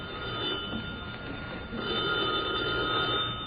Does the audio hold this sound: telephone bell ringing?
yes